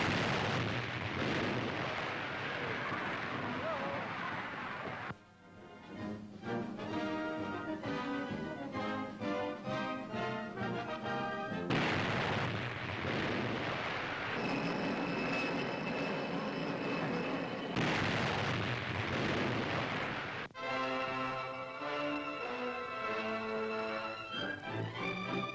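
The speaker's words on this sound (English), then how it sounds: "United States artillerymen roll out ammunition for the huge disappearing guns that are a part of America's elaborate coastal defense system." Huge disappearing guns of a United States coastal defense battery fire in a loud, old newsreel recording: booming blasts and rumbling roars come in long surges with brief breaks between them, and no speech is heard.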